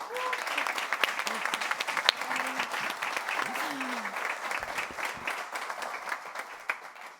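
An award ceremony audience gives sustained, moderately distant applause, dense steady clapping with a few brief vocal sounds and faint tones mixed in.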